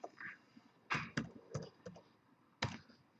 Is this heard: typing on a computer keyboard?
yes